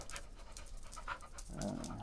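A dog pants steadily in quick, breathy bursts nearby, with some low rustling noise toward the end.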